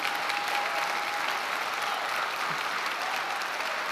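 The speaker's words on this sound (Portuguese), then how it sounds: "Pode aplaudir, ele é digno" Audience at a Brazilian Christian sermon applauding steadily, a dense even wash of clapping that holds at a constant level throughout with no voices rising above it.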